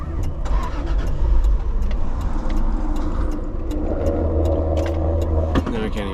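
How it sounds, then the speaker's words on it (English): A truck with a suspected fuel pump or wiring fault cranks without catching, its starter and engine churning at close range in repeated, uneven surges. "Now I can't even start the truck."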